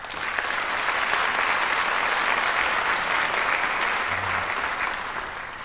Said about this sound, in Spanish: para quien pido un aplauso fuerte